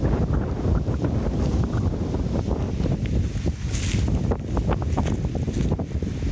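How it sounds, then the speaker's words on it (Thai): Strong wind blowing in the open, loud gusty rushing that buffets the microphone, continuous throughout. "ลมแรงมากเลย มาแบบ ลมแรงมากครับ"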